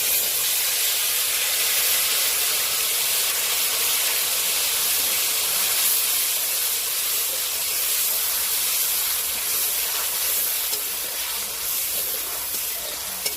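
Masala fried in oil for coriander pickle sizzles with a loud, steady, bright hiss as ripe tamarind paste goes in. The sputter stays close and continuous throughout, with no voices.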